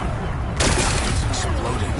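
Rocks blasting apart in Horizon Forbidden West, a sudden loud explosive burst after a quieter start, followed by a dense rumbling roar that sustains with a second surge near the end.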